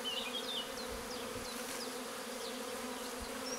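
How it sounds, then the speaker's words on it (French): A swarm of mostly black hybrid honeybees, some with orange rings, rests on the ground beside a hive frame, giving a steady close drone of buzzing with a few bees whining past overhead. "c'est des abeilles qui sont majoritairement noires, mais il y en a quand même qui ont un petit peu d'anneau orange"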